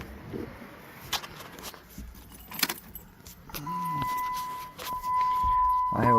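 Keys jangle in the ignition of a 2007 Dodge Nitro as the key is turned, followed by a steady electronic chime tone inside the cab, with someone talking nearby.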